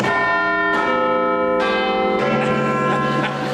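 A bright quiz show bell rings out several times in succession, each strike ringing with a long, sustained metallic tone, loud and close.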